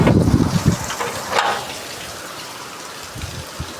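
Heavy monsoon rain pours on a Gujarat farm in gusty wind, with loud splashing bursts at first that settle into a steadier, softer patter.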